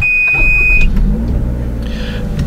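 A 2013 Toyota RAV4 with the 2.5-litre engine and four-wheel drive starts up: a thin electronic tone cuts off, then the engine catches into a loud, close, steady low idle rumble, with no one talking.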